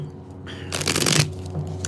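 Tarot cards being shuffled by hand: a short, close, crisp riffling burst of about half a second, with softer card handling just before and after.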